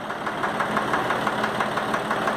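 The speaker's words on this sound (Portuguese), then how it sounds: "O trator tá funcionando aí." Valtra A 750 tractor diesel engine idling nearby with a steady, slightly rough knocking pulse and a misfiring feel, continuous and fairly loud with no talk over it.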